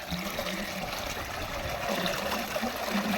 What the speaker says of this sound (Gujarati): તો પાણી આવતું છે ટાઢું હિમાળા જેવું